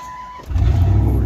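Pickup truck engine struggling to start, a brief electrical whine giving way to a low, rough rumble as the motor catches, loud and close with no talk.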